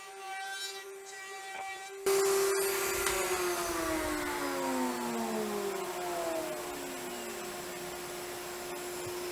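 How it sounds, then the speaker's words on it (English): Wood router cutting a round-over along the outside edge of a trim panel for a 14-inch subwoofer enclosure, a loud steady high whir that starts abruptly and holds, with gliding tonal sweeps as the cut proceeds. "what I'm taking here is going and putting a round over on the outside edge"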